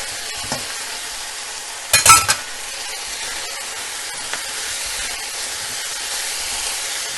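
Carrots, yellow, green and red capsicum and cabbage stir-fried in a pan for noodles, a steady close sizzle and hiss with a brief louder burst of stirring and clatter early on, no talking.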